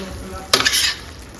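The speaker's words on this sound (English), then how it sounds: "I'm gonna just stir it up a little" Tofu frying in a pan gets a quick stir: one short, loud scrape of a utensil across the pan over a continuous soft sizzle, heard close up.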